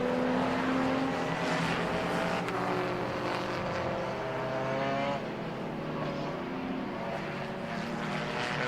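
Race cars, among them a Renault Clio, roar past on the Silverstone circuit during a Britcar Trophy race, a loud sustained engine drone with shifting pitch as cars pass and recede.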